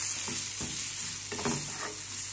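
Kolhapuri red chilli spice mix is stirred in a pan, with steady frying sizzle and several scraping strokes of the spoon across the pan, close and moderately loud.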